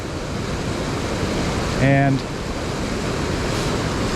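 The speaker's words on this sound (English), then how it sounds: "the water's rushing pretty hard" Rushing river water on Yosemite's Mist Trail in winter roars as a steady broadband wash throughout, with a brief tonal voice sound rising over it midway.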